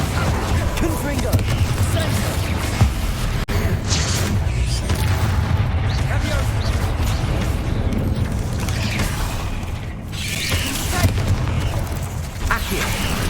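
Confringo blasting-curse explosions from the Hogwarts Legacy video game: a dense, loud run of deep booms and bursts that roll on almost continuously, packed into a busy game mix with some voice underneath.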